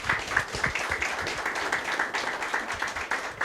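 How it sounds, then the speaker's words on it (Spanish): An audience at an academic thyroid-health workshop for laboratories applauds, a steady, moderately distant wash of many hands clapping with no single voice standing out. "un aplauso para ustedes."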